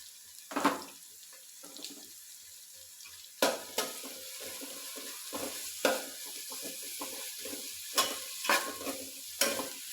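Garlic frying in a pan in a home kitchen, a soft steady sizzle broken by several louder scraping stirs at irregular intervals.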